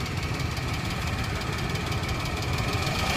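A Maruti Alto 800 car engine with a fault runs with a loud, rough, steady knocking rumble, close up and continuous, with no talk over it.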